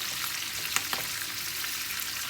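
Vegetables sauté in a pan with a dense, even sizzle throughout and a couple of faint clicks from stirring, close and steady with no talking.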